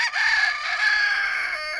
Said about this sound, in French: Les coqs sont très bruyants,